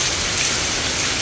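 Monsoon rain pours steadily in a village, a dense, loud, unbroken hiss of falling water with no voices.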